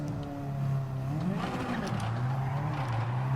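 In the Gran Turismo 7 racing game, a car slides slowly through a hairpin. A steady engine drone bends and dips in pitch over a thin tire squeal, close and continuous throughout.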